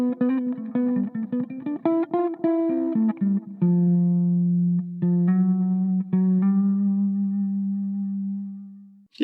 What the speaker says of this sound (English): Yeah, just a very basic delay.